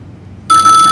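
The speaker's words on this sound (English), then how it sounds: "I thought that phone was a prop, Phil." A telephone bell starts ringing abruptly after a brief hum, loud and close, a harsh continuous electronic ring that holds steady to the end.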